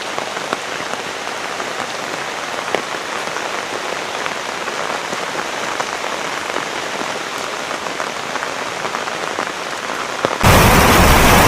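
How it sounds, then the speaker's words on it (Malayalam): Heavy rain falls steadily in Nemmara, Palakkad, a dense continuous patter of drops on surfaces close by, with a sudden harsher roar of noise at the very end. "ഇന്നാണ് കേട്ടോ മഴ പെയ്തത്"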